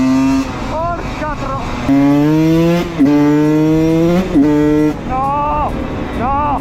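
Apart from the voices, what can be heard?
Husqvarna WR 125 two-stroke enduro motorcycle engine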